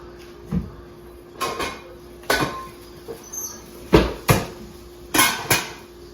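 Metal pot lid and cookware clattering as they come out of a kitchen cupboard, a series of sharp knocks and clanks spread irregularly across several seconds, close and fairly loud.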